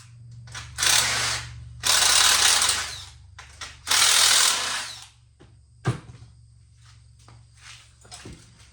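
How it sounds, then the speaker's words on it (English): A ratchet wrench cranks down U-bolts on the frame of a homemade sheep tractor. There are three long, close bursts of rapid clicking with short pauses between them, followed by a few sharp metallic knocks. "we're just going to use 2 U-bolts, get them on here, crank her down"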